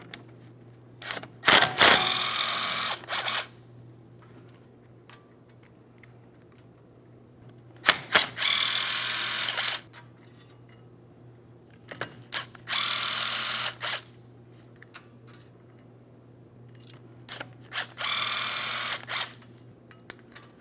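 A ratchet on the front brake mounting bolts of a 2015-2025 Ford Transit 250 turns in four loud, rapid clicking bursts of a second or two each, separated by quieter pauses with a steady low hum underneath.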